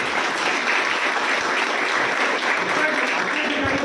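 Audience at a political gathering breaks into loud, dense, continuous applause, a steady wash of clapping that holds at full strength throughout.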